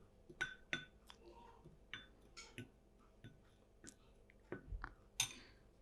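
Spoon working a paste of flour and powdered sugar in a small bowl, giving faint, irregular clinks and soft scrapes against the dish in a quiet room.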